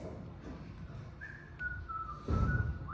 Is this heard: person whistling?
yes